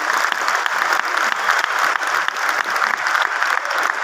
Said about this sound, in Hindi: उनके लिए तालियां बजा दीजिए